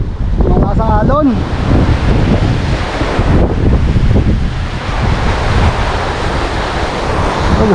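Strong wind buffets the microphone over crashing ocean surf in a steady, loud roar at the shore, with a brief voice-like sound early on.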